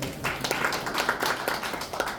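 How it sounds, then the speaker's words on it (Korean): Brief burst of audience clapping at a museum forum lecture, a couple of seconds of moderately loud, scattered hand claps from a seated crowd. "정용원 조수님한테 박수 한번 드리겠습니다."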